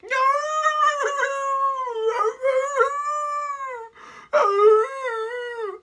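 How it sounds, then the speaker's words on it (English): A dog howls in a children's story, with long, loud, wavering drawn-out cries that break off briefly and then rise again, heard alone without talk. "Beside the bog stood a dog who was howling."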